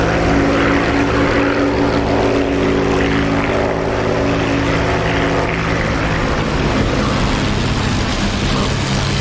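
A Spitfire's propeller engine drones loud and unbroken in the DCS World flight game, a thick steady roar that stays constant throughout.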